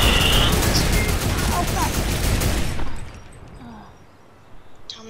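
Rapid bursts of automatic gunfire from the video game Fortnite fill the first three seconds, loud and dense, then drop away to quieter game ambience with a few faint sounds and a voice speaking.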